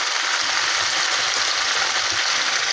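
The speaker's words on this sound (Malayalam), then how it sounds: "ഈ വെളിച്ചെണ്ണയിൽ വഴറ്റിയെടുക്കണം" Small onions sizzle and spit as they sauté in hot coconut oil for a homestyle Kerala onion curry, a loud, steady, unbroken frying hiss with no voices.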